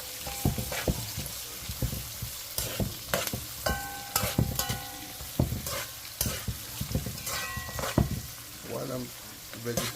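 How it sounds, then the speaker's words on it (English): Vegetables sautéing in coconut oil in a pan, with loud sizzling broken by repeated rhythmic scrapes and clanks of a spoon stirring, close and uneven; no speech. "So saute the vegetable."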